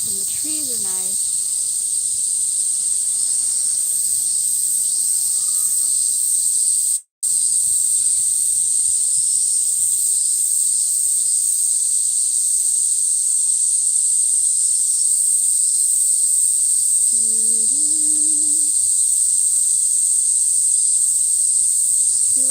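Cicadas in a Tokyo park shrill loudly and continuously in a high, piercing drone that dominates throughout, while faint voices and children's sounds come and go underneath.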